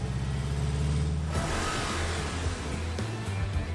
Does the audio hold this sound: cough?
no